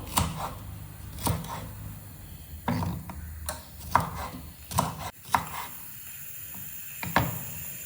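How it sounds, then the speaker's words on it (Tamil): Knife strokes chop vegetables into large pieces on a board for peas pulao, in irregular sharp thuds, close and fairly quiet, with pauses between clusters of cuts. "இதெல்லாம் நல்லா பொடியாக நறுக்கக்கூடாது, கொஞ்சம் பெருசாக நறுக்கிக்கணும்."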